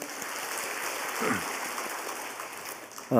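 A church congregation claps together during a Sunday worship service, a steady rain-like patter of many hands that stays even throughout and swells slightly midway.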